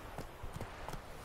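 Quick rhythmic hoofbeats clip-clop at a brisk pace, fairly faint, as of a horse trotting or galloping in the video game The Witcher 3: Wild Hunt.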